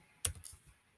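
A single quick burst of computer keyboard typing, with a couple of sharp close key clicks and faint trailing taps in a quiet room.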